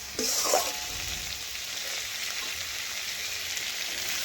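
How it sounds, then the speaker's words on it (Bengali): Potatoes and ridge gourd cooking down with spices in their own released water in a pan, a soft continuous sizzle with a brief stirring clatter near the start, fairly quiet and without talk. "একসাথে সমস্ত কিছু ভালোভাবে বেশ কিছুক্ষণ ধরে আমি কষে নেব"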